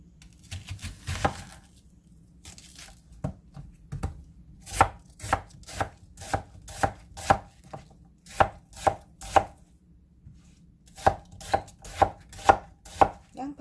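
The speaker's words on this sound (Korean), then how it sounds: "감자 살을 전부 다 이렇게 썰어주세요." A knife chops potatoes on a cutting board in a home kitchen, sharp rhythmic knocks in a few bursts, a steady series of about a dozen close, crisp taps with short pauses between runs.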